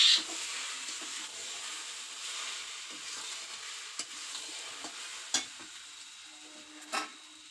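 Rice stir-fried with egg, onion and chopped chili sizzles in a pan, a low continuous fry broken by a few sharp scraping stirs and clinks of the spatula, fairly quiet and close, with no talking.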